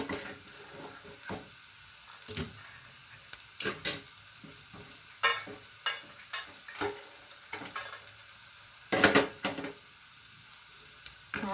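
Onions deep frying in oil, a soft bubbling hiss broken by irregular clattering bursts of a utensil stirring in the pan, close and moderately quiet.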